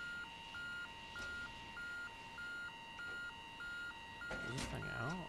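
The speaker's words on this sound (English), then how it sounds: "What is the alarm?" An alarm in the Stormworks game gives a steady, regular two-tone beeping pattern, pulsing about twice per second. Near the end, rising warbling tones and louder talk join it.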